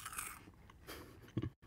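Bacon tomato flavoured puff ball snack being crunched close up, a few light dry crunches and chewing sounds, quiet and alone, ending with a louder bite.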